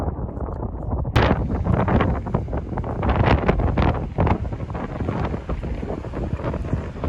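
Strong coastal wind buffets the microphone on a clifftop path at Poldhu, Cornwall, a loud, continuous roar with sharper gusts throughout and no voices.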